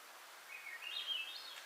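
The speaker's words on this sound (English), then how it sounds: "That's a Swainson's thrush." A faint, distant Swainson's thrush sings a fluty phrase that spirals upward in pitch, heard alone over soft background hiss on a mountain trail.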